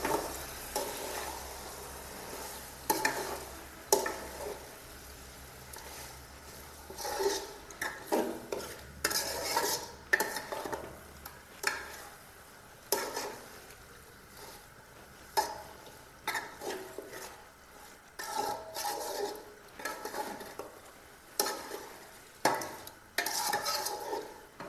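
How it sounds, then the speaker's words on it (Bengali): Spoon scraping and stirring salted desi chicken in a cooking pot, with repeated rhythmic scrapes and a faint sizzle underneath, close and fairly quiet. "লবণ দিয়ে এখন নেড়ে নেব।"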